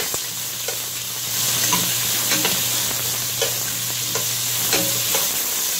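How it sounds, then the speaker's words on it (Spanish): Onion sautés in hot oil in a preheated frying pan, a steady, close sizzle with a low background hum and scattered sharp clicks from stirring. "se sofría un poco la cebolla"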